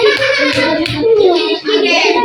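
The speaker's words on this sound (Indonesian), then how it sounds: "tepuk tangan dulu untuk kelompok 3" Children in a primary madrasah classroom clap for a student group, a dense, steady patter of many small hands filling the moment, with young voices chattering underneath.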